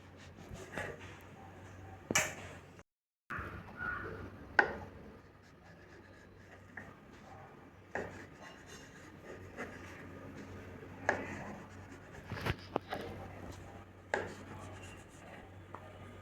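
A knife trims the crusts off bread slices for bread gulab jamun, making quiet, scattered scraping and cutting strokes with short pauses, and no voices.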